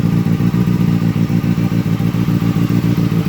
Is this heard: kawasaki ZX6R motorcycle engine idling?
yes